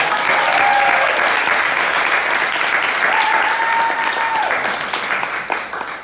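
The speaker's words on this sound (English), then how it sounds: "So everyone please clap goodbye to the Oracle." Graduation show audience claps goodbye to a stage character, a thick burst of applause with occasional whoops that tapers slightly toward the end.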